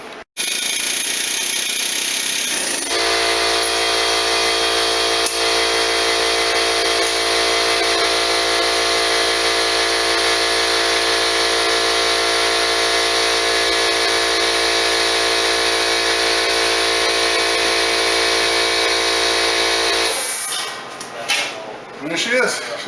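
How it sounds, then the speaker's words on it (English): A pneumatic air hammer knocks out the lower ball joint on a Chrysler 300C Hemi. It makes a loud, continuous, rapid rattling drone for about seventeen seconds, then cuts off, leaving quieter workshop clatter. "Fire up the hammer for that."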